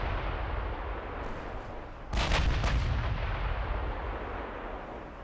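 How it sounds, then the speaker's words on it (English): Battleship main and secondary guns firing in the naval game Ultimate Admiral Dreadnoughts, a loud booming salvo around the middle over a constant roaring background rumble, with a couple of fainter shots trailing after. "If I can get the main guns firing one direction and the secondaries firing the other way."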